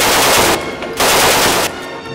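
Sustained automatic gunfire in the World War II shooter Red Orchestra: Ostfront 41-45, loud and close, in two long bursts separated by a brief lull.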